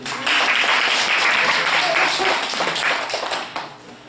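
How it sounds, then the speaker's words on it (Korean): Audience applause at a Buddhist graduate school lecture, a dense steady patter of clapping that swells quickly and holds evenly before tapering near the end, with some voices mixed in. "박수 한번 쳐주세요"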